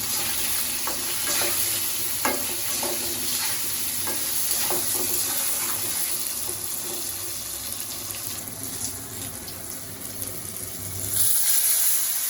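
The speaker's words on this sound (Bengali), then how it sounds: "হলুদের গুঁড়া লবণ দিয়ে এখন আলু বেগুন ভেজে দিব।" Potato and aubergine fry in a pan with a continuous hiss and sizzle, broken by scraping stirs and small knocks, heard up close with no talking.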